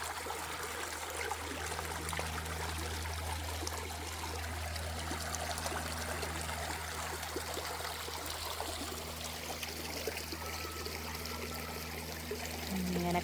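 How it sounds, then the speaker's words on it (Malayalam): Water flows along a stream in Williams Park, Canada, a soft, continuous trickle and gurgle that stays even and fairly faint throughout, with no voices over it. "എന്ത് ഭംഗിയിലാണ് വെള്ളം ഒഴുകുന്ന സൗണ്ട്"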